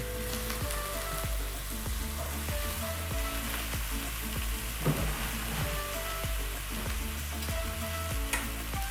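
Tomato quarters frying in a pan with a touch of oil, a steady close sizzle and crackle running throughout with small pops and stirring clicks, no talking.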